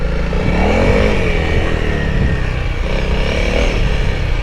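Honda CRF300L dual-sport motorcycle carrying an oversized gas tank, its single-cylinder engine revving loud and close as the rider attempts a wheelie, pitch rising and falling through a couple of throttle blips over a steady running drone.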